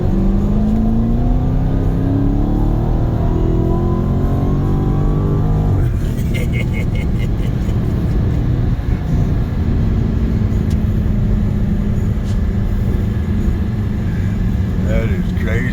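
An 840-horsepower Dodge Charger Hellcat Redeye does a burnout, its engine roaring loud and close with sustained revving, rising pitch sweeps and a drop in tone midway, under constant tire and exhaust noise.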